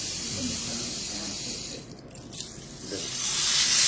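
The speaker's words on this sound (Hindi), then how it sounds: "ये पानी की आवाज आ रही है," A novelty device makes a continuous hissing rush of water, like a steady flow or spray, fairly loud and swelling toward the end, with no talking.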